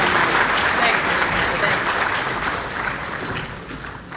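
Audience applause at a regional police awards ceremony, a dense, loud wash of clapping from a large room that gradually tapers off toward the end.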